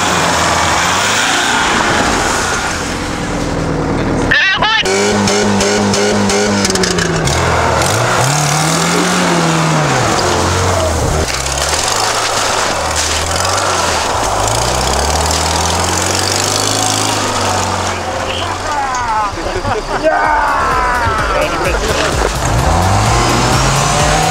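A jeep at a jeep-sprint race on open steppe revs hard at the start and pulls away, its loud engine swinging up and down through repeated gear changes and throttle surges, close at first and sustained throughout.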